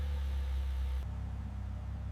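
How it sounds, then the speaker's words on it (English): Engine of a 2023 Rosso Mugello Ferrari 296 GT3 after a full restoration, a low steady idle that shifts slightly in tone partway through, heard close and alone. "The engine starts smoothly, with steady vibration and clean,"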